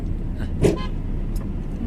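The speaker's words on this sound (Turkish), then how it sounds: "Şimdi bak mesela arkadaki bize korna çaldı." A single short car horn toot sounds nearby over steady traffic noise, followed by a fainter brief beep.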